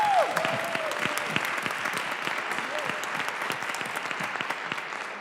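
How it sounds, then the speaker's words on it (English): Audience at a school board of education reorganization meeting breaks into applause, a steady patter of many hands clapping at moderate volume, with a voice briefly audible at the start. "I think that deserves a huge round of applause."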